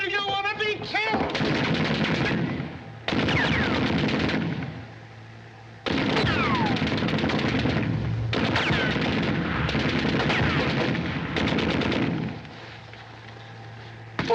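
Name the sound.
machine gun fire in a war scene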